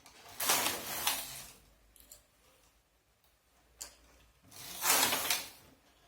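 A knitting machine carriage sliding across the needle bed in two loud mechanical passes with a clattering, ratcheting texture, separated by quieter clicks and a pause.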